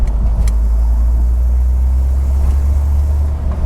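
A 1949 Oldsmobile 88 Futuramic with a dual exhaust system idles nearby, its engine producing a steady, loud low rumble with no talking over it.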